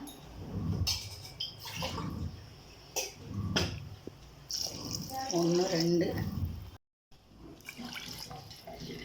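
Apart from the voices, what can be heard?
water poured from a tumbler onto soaked basmati rice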